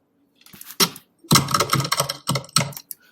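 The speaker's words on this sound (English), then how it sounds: "So now I want the typing to happen" Bursts of keyboard typing, clustered keystrokes in quick uneven runs with short pauses between, close and fairly loud.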